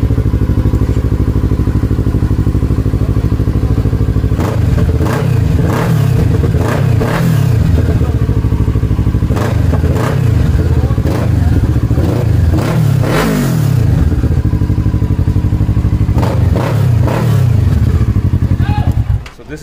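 A Kawasaki Z series superbike with about 1,900 km on it idles loudly and is repeatedly revved, its engine rising and falling in throaty bursts over a constant low rumble close by.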